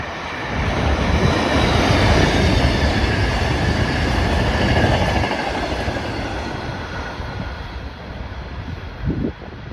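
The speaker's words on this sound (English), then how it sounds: "After watching this out-of-service train fly past" An out-of-service South Shore Line passenger train speeds past, a loud close rush of wheels and rumble with a steady clatter that gradually fades as it moves away, ending with a brief sharp knock.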